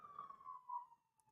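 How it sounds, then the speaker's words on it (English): Ambulance siren wailing through downtown Las Vegas, a single steady electronic tone sliding gently in pitch, fairly distant and soft over faint street rumble, fading away near the end. "The ambulance."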